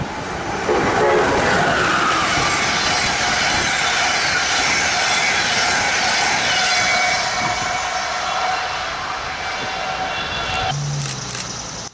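Two trains meet on the Northeast Corridor in Pennsylvania, a steady loud rumble of wheels and rolling cars passing close by for about ten seconds before fading.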